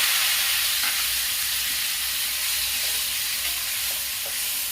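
Onion, ginger and garlic paste sizzles steadily in a hot pan for an Indian aloo matar paneer curry, a dense continuous frying hiss with faint stirring clicks, close and loud, no voices.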